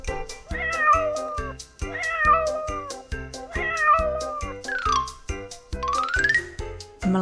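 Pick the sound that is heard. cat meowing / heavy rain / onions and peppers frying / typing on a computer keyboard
cat meowing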